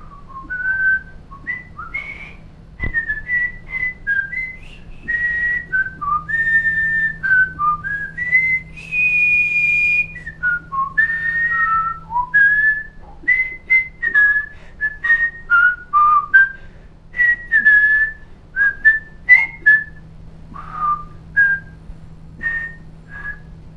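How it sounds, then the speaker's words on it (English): A person whistles a long, wandering melody of short and held notes, clear and close, with brief gaps between phrases over a low steady hum. "Sounds just like whistling."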